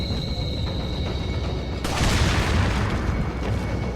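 A sharp boom of gunfire in the video game Resident Evil 4 bursts out midway, its rumbling tail lingering over a steady background of game music and noise.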